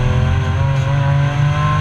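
A historic race car engine during a practice session at Baskerville drones loud and close, holding a steady high-revving tone under load with rich harmonics and no talk.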